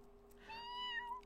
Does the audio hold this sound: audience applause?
no